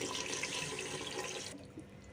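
Water pours into a pot of chicken biryani in a steady, close splashing stream, then cuts to a softer bubbling trickle.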